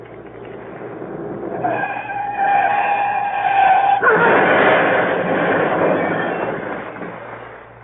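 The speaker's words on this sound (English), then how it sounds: "Drove right through the hedge, he did, Sullivan." Large green Daimler car in a radio drama effect skids with a long tire squeal that rises, then bursts into a loud, rough crashing rush through a hedge before slowly fading out.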